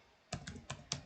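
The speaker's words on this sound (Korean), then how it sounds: "컨트롤 L을 눌러서" Four crisp computer keyboard key presses, closely spaced and near, tapping out the Ctrl+L shortcut in a quiet room.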